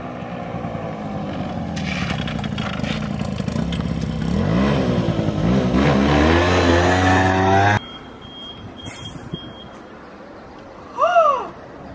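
A car revs and roars off fast along a road, a loud rising engine with shifting pitch for several seconds before it cuts off abruptly to quieter ambience with a couple of brief chirps.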